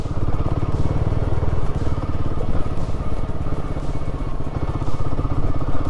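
Royal Enfield Himalayan 450 riding off-road on an overgrown track, a loud close engine with a fast regular thumping beat and rattling clatter, steady throughout with no talk.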